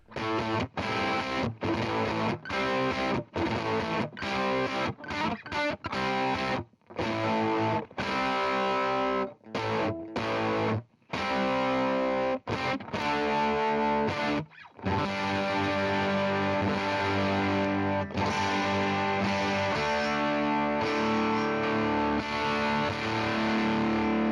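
Distorted electric guitar with humbucker pickups through an inexpensive Playwell distortion pedal playing a riff of chopped chords and sustained notes with brief gaps, loud and close, with a swirling effect on some passages.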